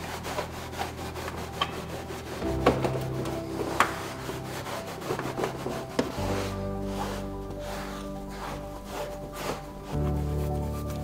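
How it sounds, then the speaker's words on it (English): A cloth wipes down a panel on a 90s Nissan Pulsar VZ-R N1 Spec II with Shine Supply Throwback panel wipe, giving close, repeated rubbing strokes with soft scuffs over a faint background hum. "So my first step is to do a final panel wipe with Shine Supply Throwback"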